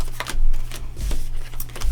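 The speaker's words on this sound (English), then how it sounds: "So we're going to shuffle these." Cards for the Naishi card game are shuffled close up. Quick, soft riffling and flicking bursts come in an uneven rhythm over two seconds, with no talk.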